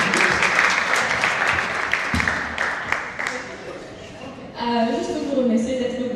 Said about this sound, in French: Est-ce qu'on peut applaudir Francine?